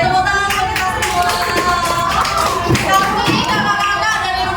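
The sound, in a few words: children applauding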